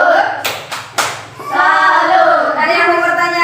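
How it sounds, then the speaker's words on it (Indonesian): A school class in group discussion gives a burst of hand claps, three sharp rhythmic claps, then the room shifts into loud, sustained chanting voices. "tepuk tangan dulu untuk kelompok 3"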